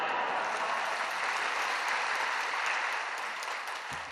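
A church congregation at an early-morning service claps to welcome a pastor to the pulpit, with steady, even applause that is fairly faint and distant, tapering slightly at the end.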